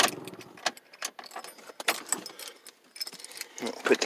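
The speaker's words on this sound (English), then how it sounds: "Put the keys in here." Keys for a 1995 Ford Ranger XLT pickup jangle and clink in quick irregular bursts close by, bright metallic rattles with brief gaps between them.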